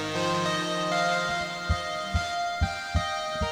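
A Novation Circuit synth plays a higher-register melody over sustained pads, joined in the second half by a run of five evenly spaced low thumping hits, with no voices.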